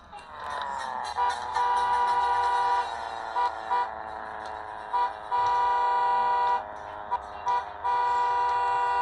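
A car horn honks repeatedly, a long blast followed by a string of short toots in uneven rhythm, loud and close.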